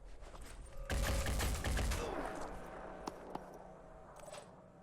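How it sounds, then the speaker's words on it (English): Gunfire in the video game Phoenix Point: a sudden loud burst of rapid shots lasting about a second, followed by a decaying rumble and a few fainter sharp cracks. "keep firing at this guy."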